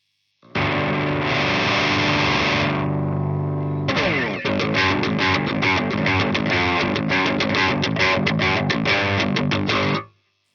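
Distorted electric guitar through a Harley Benton Mighty 15 amp boosted by a KSR Eros pedal: a sustained ringing chord, then a run of loud rhythmic chugging strums, close and alone, ending abruptly.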